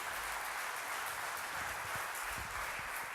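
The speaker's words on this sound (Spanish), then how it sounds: "Le da ese aplauso fuerte." A church congregation at a retreat gives a faint, steady wash of applause, soft and distant, blending into the room's background noise.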